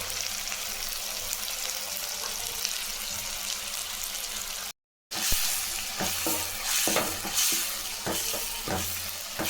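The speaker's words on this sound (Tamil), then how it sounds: "அதையும் போட்டுக்கலாம் நல்லா வதக்கலாம்" Chopped tomato sautés in a hot pan for a kurma, with loud continuous sizzling and hissing, a brief gap, then stirring scrapes and spatula knocks over the frying crackle.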